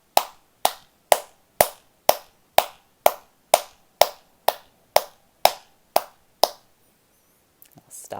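Hands clapping in a slow, evenly spaced series of about fourteen crisp, close claps, then a brief pause with faint shuffling at the end.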